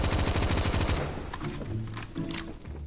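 Rapid automatic AKM rifle fire in the Roblox shooter Phantom Forces: a dense burst of loud, evenly spaced shots for about a second, then scattered distant gunfire and clanks from the game.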